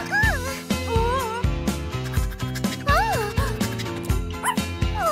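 A puppy yips and whimpers in short, rising high-pitched cries over rhythmic background music, the small bursts repeating every second or so.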